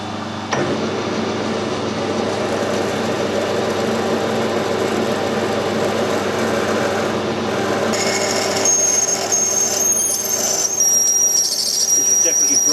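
Drill boring an 8mm hole through a bronze part, a continuous loud grinding whir with a sharp squeal rising in the last few seconds, no talking over it.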